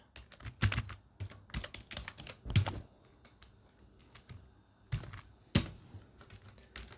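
Java code being typed on a computer keyboard produces irregular bursts of clicking keystrokes, some sharp and loud, separated by short quiet gaps.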